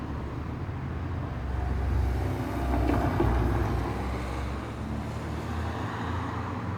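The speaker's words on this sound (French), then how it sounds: "Ah putain, voiture!" A car passing by outdoors at night, a broad low rumble of tyres and engine swelling to a peak midway then easing off, with wind noise on the microphone and no talk.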